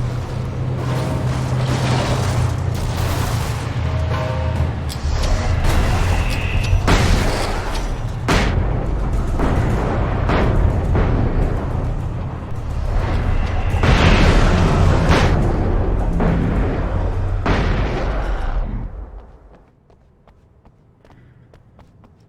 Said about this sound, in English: yere bomba attım Allah